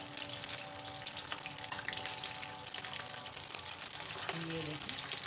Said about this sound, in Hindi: अभी इनको स्लो आंच पे इतना पकाना है